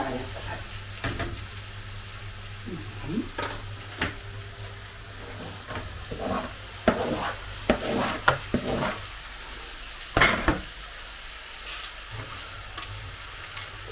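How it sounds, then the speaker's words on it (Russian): Cucumbers fry in a dry pan, giving a soft steady sizzle with scattered clinks and stirring scrapes of a utensil against the pan, fairly quiet and close. "Огурчики потом одни пожарятся на сухой сковородочке."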